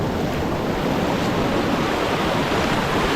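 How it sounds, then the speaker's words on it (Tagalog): Strong ocean waves crash and roar continuously at Baler beach, a loud, dense wash of surf that fills the whole scene with no pause and no voices. "Ang lakas kasi ng alon."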